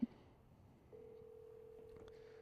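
A phone call ringing out, a single sustained ring tone that begins about a second in and holds steady, after a brief click at the start, with quiet room sound underneath.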